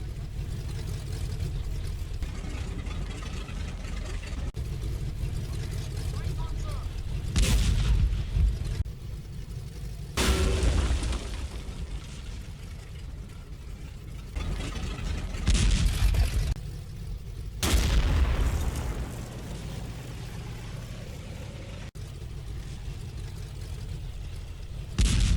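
Tank guns firing in the WWII video game Combat Mission Final Blitzkrieg, with several sharp, heavy booms spaced across a low rumbling battlefield background, each blast loud and followed by a short decaying roar.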